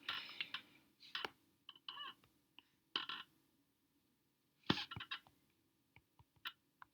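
Sparse bursts of computer keyboard typing, short clusters of key clicks separated by pauses, close and fairly quiet in an otherwise silent room.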